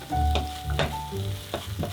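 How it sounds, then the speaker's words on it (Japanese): Chicken mince and tomato with curry powder and granulated consommé are gently stirred in a pan, giving soft scraping strokes over a low sizzle, with several separate stirring motions in quick succession. "優しく混ぜ合わせます。"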